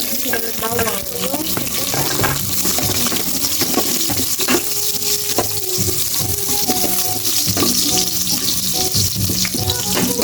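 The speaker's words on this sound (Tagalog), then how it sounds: "Gisa ko muna itong bawang na maigi." Garlic sautéing in a pan, with a loud continuous sizzle mixed with stirring scrapes and clinks of the utensil against the pan.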